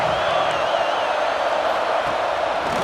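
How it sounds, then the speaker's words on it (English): Steady roar of a stadium crowd at a college football video game, NC State versus Boise State in a playoff first round, a continuous dense wash of cheering and chatter with no break. "Listen to the crowd energy here in the early going."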